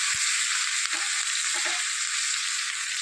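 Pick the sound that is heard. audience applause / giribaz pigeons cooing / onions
onions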